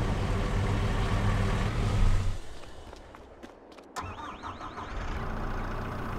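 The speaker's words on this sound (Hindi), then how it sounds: "एक गाड़ी सामने आ रही है" Vehicle engine in the Farming Simulator 22 video game, a loud rumble that dips and cuts out briefly, then restarts and settles into a steady drive-up drone.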